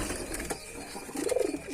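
Adult male pigeon at a breeding nest gives a short, close coo, a low throaty warble swelling near the end of a brief clip, with no talking.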